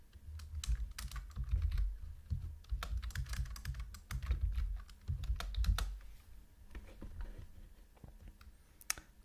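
A computer keyboard clatters under close, uneven typing during network switch configuration, with bursts of keystrokes and short pauses. The sound is fairly quiet and there is no talk.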